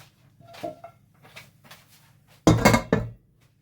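Cooled, toffee-like apples tipped into gluten-free apple cinnamon cake mix land with a loud wet clatter and scrape against the bowl, preceded by quieter handling knocks.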